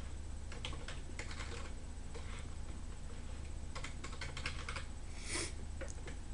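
Text being typed on a computer keyboard in bursts of quick, close key clicks over a steady low hum, with no one talking.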